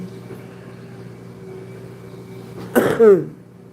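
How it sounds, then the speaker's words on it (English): Two or three quick, hoarse coughs burst out near the microphone after a quiet moment, sharp and fairly loud. "That's the only thing still lingering is this dang on cough."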